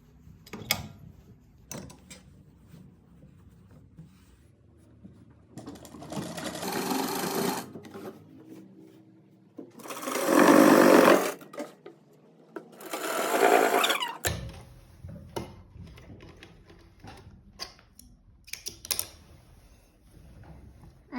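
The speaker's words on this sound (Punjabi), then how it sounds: "ਸਿਲਾਈ ਲਗਾ ਲਈਏ ਪਿਛਲੇ ਪਾਸੇ" A sewing machine stitches a straight salwar in three separate loud bursts of fast whirring, with fabric handling clicks and rustles in the quieter gaps between them.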